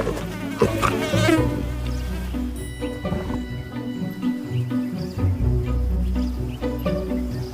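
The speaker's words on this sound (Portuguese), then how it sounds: "Mas as moscas estão perturbando a sua paz." Flies buzz in close around a resting leopard in the African bush, with several overlapping whining drones rising and falling, plus a few soft rustles and no talk.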